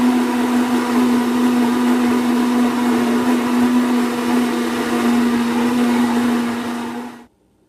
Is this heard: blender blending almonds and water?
yes